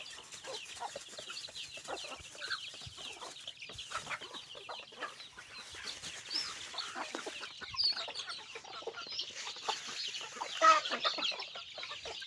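Chickens cluck and chatter steadily on a farm, a busy, fairly faint flock with overlapping clucks and occasional sharper calls throughout.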